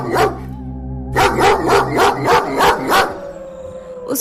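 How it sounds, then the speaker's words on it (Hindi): A dog howls, then barks in a rhythmic run of about six loud, close barks that fade into a low lingering tone, with no talk over it. "राजकुमारी के इतने भगाने पर वो कुत्ता वहाँ से नहीं जाता है और भौंकता ही रहता है।"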